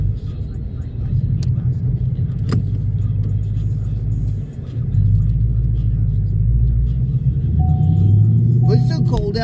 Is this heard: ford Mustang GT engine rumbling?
yes